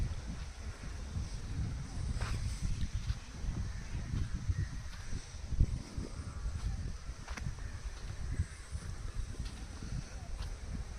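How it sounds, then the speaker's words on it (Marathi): Strong wind ahead of a cyclone in a Konkan village buffets the microphone with a continuous low rumble, gusting unevenly throughout. "वारा पण खूप सुटलाय"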